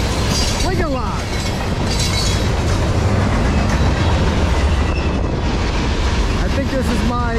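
A CSX freight train passes close by, a loud continuous rumble of rolling cars with rhythmic wheel clatter and occasional squeals, sustained throughout.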